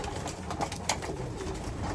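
Racing pigeons coo softly in a loft while a constant low hum of wind or room noise runs underneath, with a few brief wingbeat-like rustles and no talk.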